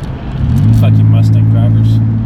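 A Ford Mustang rumbles past close by, its engine note swelling quickly into a steady low drone, with a voice talking over it.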